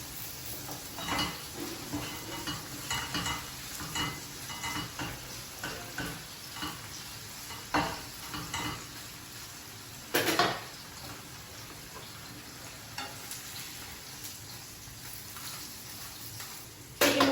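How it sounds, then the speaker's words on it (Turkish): Gözleme flatbread frying in a little oil in a pan, with a steady close sizzle throughout, occasional utensil clinks and a sharp scrape partway. "iyice kızarmaya başladı"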